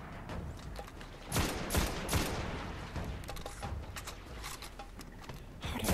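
Gunfire from the Destiny video game, a few sharp shots and bursts popping over a dense, busy backdrop of game effects, with louder blasts clustered near the middle of the stretch.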